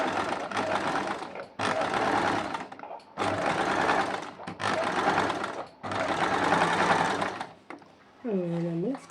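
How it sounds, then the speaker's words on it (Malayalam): An electric sewing machine stitches along the edge of a canvas neck piece in five steady whirring bursts separated by short pauses, loud and close, with a brief voice at the end. "എന്നിട്ട് ഇതിൻ്റെ അരികത്തൂടെ പിന്നെ സ്റ്റിച്ച് ചെയ്യുക."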